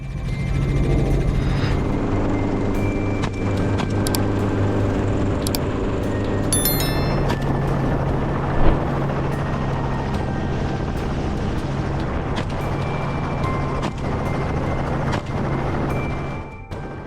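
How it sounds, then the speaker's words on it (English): A helicopter drones steadily overhead for the whole stretch, a loud constant rotor hum with no voices. "with the pilot maintaining control of the helicopter"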